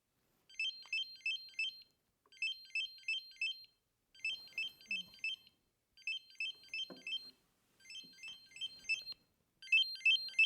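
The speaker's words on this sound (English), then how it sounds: "that's the sound it's making to find the remote" A streaming stick's remote-finder alert plays from the remote as repeated bursts of four quick high electronic beeps, evenly spaced with short pauses, fairly faint and alone.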